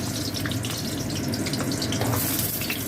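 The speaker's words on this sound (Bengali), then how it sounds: "তেলটা গরম হয়ে গেছে, আমি এবার পটলগুলো ভেজে নেব" Pointed gourd (potol) frying in hot mustard oil in a karai, a loud, dense, continuous crackling sizzle heard up close without pause or talk.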